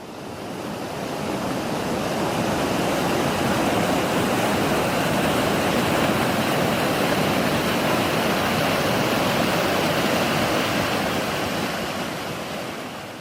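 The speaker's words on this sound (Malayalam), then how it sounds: "കനത്ത മഴയിൽ ഒലിപ്പുഴ കരകവിഞ്ഞു." The swollen Olipuzha river rushes over its banks after heavy rain in Karuvarakundu, a loud, continuous roar of floodwater that holds steady throughout with no voices.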